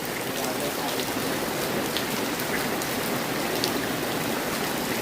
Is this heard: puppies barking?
no